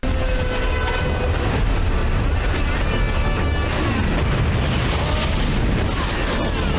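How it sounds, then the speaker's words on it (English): Grenade-like explosions from the film 300 rumble loudly and continuously, with deep booms and crackling debris layered in a dense, sustained roar. "Those are like grenades."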